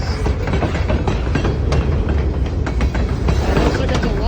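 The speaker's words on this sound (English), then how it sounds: "And it looks like it's a long train today." A long freight train of boxcars and gondolas rolls steadily past in a snowy setting, its wheels clattering in a continuous, loud rumble with rhythmic clickety-clack over the rails throughout.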